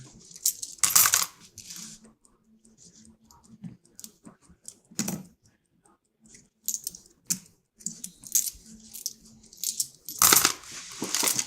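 Older nickels poured and dropped into an empty bucket, loud metallic clattering bursts spaced irregularly over a quiet background with small clinks between.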